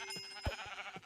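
A Minecraft sheep bleats in short, quavering calls, several quick repeated bleats close by in a video game.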